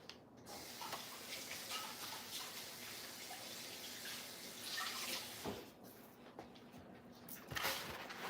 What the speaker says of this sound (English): And then give my hands a quick wash.